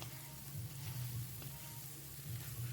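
Two eggs sizzle in a pan of fried chillies with a steady, quiet crackle and no speech.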